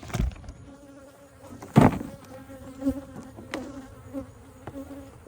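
A low, steady hum of honey bees buzzing close by in a hive, broken by a few sharp knocks and a brief spoken word.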